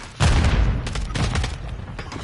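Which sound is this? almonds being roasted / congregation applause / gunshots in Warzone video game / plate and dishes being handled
gunshots in Warzone video game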